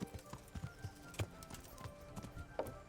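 Horse hooves clip-clopping in the video game Kingdom Come: Deliverance, a quick, even series of fairly quiet hoof strikes with a brief snort-like sound near the end.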